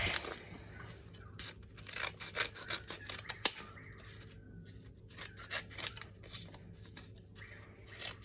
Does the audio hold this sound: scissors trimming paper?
yes